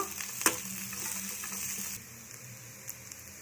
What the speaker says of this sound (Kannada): ಒಂದು ದೊಡ್ಡ ಗೆಡ್ಡೆ ಬೆಳ್ಳುಳ್ಳಿ, ಶುಂಠಿ ಹಾಕೊಂಡು ಫ್ರೈ ಮಾಡ್ಕೊತೀನಿ